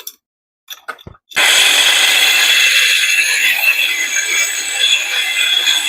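A metal rod stirs and scrapes stones and debris inside a water pump, giving a loud, continuous gritty rubbing that follows a few brief knocks at the start.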